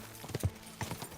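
Horse hooves clop on the ground in Kingdom Come: Deliverance 2, a quick faint pair of double-beat strikes close together in a short burst.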